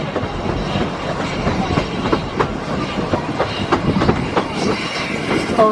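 Steam railway carriage rolling into Woody Bay station, a steady rumbling clatter of wheels on track with rhythmic clicks, fairly loud and close, with brief wheel squeals near the end.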